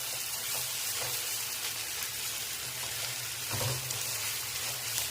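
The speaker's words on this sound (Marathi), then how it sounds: "त्यामध्ये मी हे टमॅटो टाकते आणि ते पण आपल्याला एखादा मिनटं परतून घ्यायचं आहे" Tomatoes with masala sautéing in a pan for masala pav, a steady sizzling hiss with a soft stir or two, close and continuous throughout.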